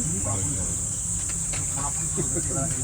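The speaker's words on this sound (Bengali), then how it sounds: "দুপুরবেলায় ঝিঝি পোকার আওয়াজ" Crickets chirp at midday in a field near Bolpur on a 45° day, a steady high shrill drone that runs throughout, with a person talking quietly beneath it.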